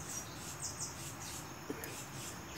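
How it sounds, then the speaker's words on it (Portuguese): A young canary on a rural farm gives a few quick, thin, high chirps, fairly faint against steady outdoor background noise. "Escuta o passarinho, é o que é isso? É filhote de canário."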